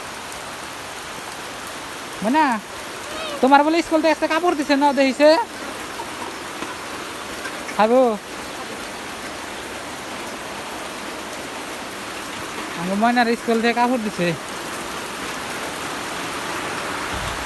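Steady rain falls in an even hiss throughout, while a voice talks in short bursts over it.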